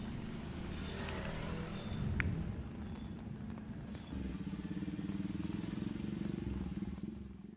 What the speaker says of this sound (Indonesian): Salah satu kendaraan roda 2 mengalami mati mesin saat menerjang banjir.